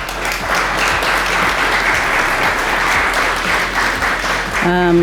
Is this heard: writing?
no